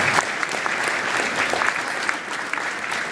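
Steady, close applause from the crowd at a high school cheer and football awards banquet, a dense even patter of many hands clapping for about three seconds.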